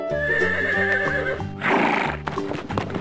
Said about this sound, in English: Con ngựa. Con ngựa. Horse.